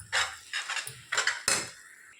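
A utensil clinks and scrapes against a pot while ground spice powder is stirred into gongura chutney, four distinct bursts of close metallic clatter with brief pauses between them.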